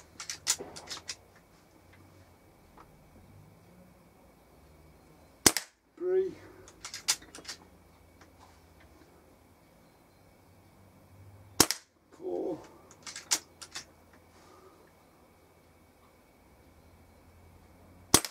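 A Weihrauch HW97 air rifle fires pellets at a target 16 yards away: two sharp, isolated cracks about six seconds apart, each followed by faint clicks and handling sounds in an otherwise quiet setting.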